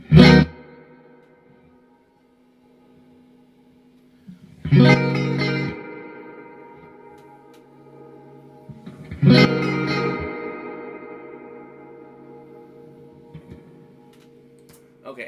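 Three loud strummed electric guitar chords through a Fender Tone Master Twin Reverb amplifier, each ringing out with a long, washy reverb tail that fades slowly before the next strike.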